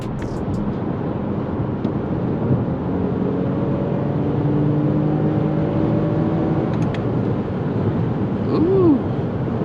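A 2023 Lexus ES 350 accelerates hard during a pull, its engine a steady loud drone from inside the car with rising tones climbing through the run.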